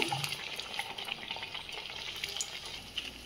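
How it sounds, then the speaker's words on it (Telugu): Taro root vadas deep frying in hot oil, a steady close bubbling sizzle with soft crackles and pops running throughout, alone with no voices. "మనం మిగిలినవి కూడా ఇదే విధంగా చేసుకొని ఆయిల్లో డీప్ ఫ్రై చేసుకోవాలి, గోల్డెన్ కలర్ వచ్చే వరకు"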